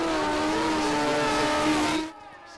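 A Kawasaki ZZR 1100 drag motorcycle screams at high revs on a drag strip, a loud sustained engine wail that cuts off sharply near the end, leaving faint background noise.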